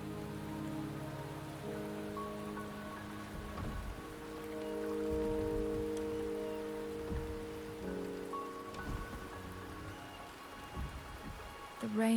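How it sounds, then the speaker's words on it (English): Steady rain falls in the Wuthering Waves game at Mt. Firmament in Huanglong, a continuous wash of drops under sustained musical tones, with a voice speaking over part of it. "The rain is subsiding, and the sky will soon clear."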